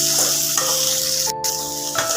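Tomatoes dropped into frying onions in a pan crackle and sizzle loudly and steadily, with a brief clatter partway through and no voices.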